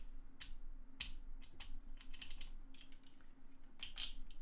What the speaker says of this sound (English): I love the sound of the clicking sound here.